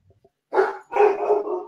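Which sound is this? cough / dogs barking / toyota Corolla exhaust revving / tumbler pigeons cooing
dogs barking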